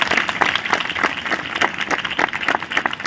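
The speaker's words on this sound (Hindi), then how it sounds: "ताली बजा के जोरदार प्रभु को धन्यवाद दीजिए" Lively, continuous clapping from a worship congregation at a spiritual awakening festival in Udaipur. The applause is dense and sustained at steady volume through the whole stretch, with no speech.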